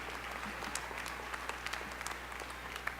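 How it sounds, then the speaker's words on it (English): Audience at a university commencement ceremony claps for graduates as they stand, steady moderate applause with scattered sharper claps, heard at a distance over a low electrical hum. "And you may clap for them as they stand"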